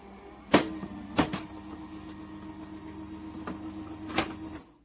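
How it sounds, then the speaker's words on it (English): Sharp cracking snaps sound at irregular intervals, four or so, as plates pass through a manual die cutting and embossing machine, over a low mechanical hum close by. "It's normal to hear the cracking noise, so don't be alarmed if you hear that."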